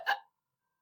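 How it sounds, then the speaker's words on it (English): A single short hiccup, close and fairly loud, lasting a fraction of a second and followed by silence. "Mr. Penny hiccuped into town."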